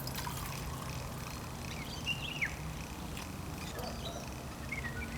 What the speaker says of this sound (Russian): Сейчас наливаю чай.